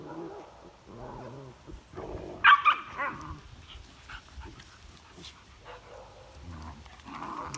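Adult dog romping with her puppies in a home, giving a burst of sharp squeals and yelps midway between quieter grunts and growly play noises, with softer whines returning near the end.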